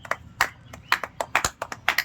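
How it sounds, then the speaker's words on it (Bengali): An audience claps at a rainbow game, giving a run of sharp, uneven, close hand claps at a brisk irregular rhythm. "সবাই হাততালি দাও, জোরে হাততালি"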